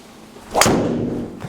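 A Callaway Rogue Epic driver strikes a golf ball with a single sharp, loud crack at close range, followed by a brief whooshing tail.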